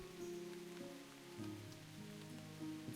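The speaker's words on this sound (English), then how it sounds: "Rain noises." Steady light rain patters as a game sound effect, a soft continuous hiss of drops under faint low musical tones, quiet and without talk.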